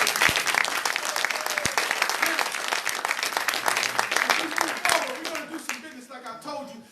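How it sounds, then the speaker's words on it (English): An audience at a Nation of Islam town hall meeting claps in a dense, sustained burst of applause that gradually thins and fades toward the end. "and give yourself a round of applause."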